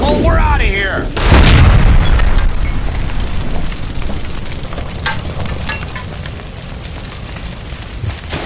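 A gas line blown up by gunfire in the video game L.A. Noire, a deep, loud boom bursting after a short shout, then a long rumbling roar of fire and debris that slowly fades.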